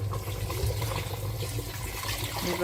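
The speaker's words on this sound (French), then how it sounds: "là je vais mettre mon eau chaude" Hot water pouring steadily into a simmering Tunisian tagine, a continuous close, fairly loud watery rush and gurgle lasting a few seconds with no talking.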